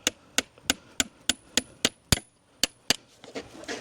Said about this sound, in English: This is a driving hammer.